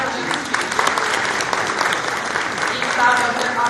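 Loud, sustained applause from an audience at a Madhya Pradesh government event marking ten years of the public service guarantee law, with dense clapping that holds steady and swells slightly near the end.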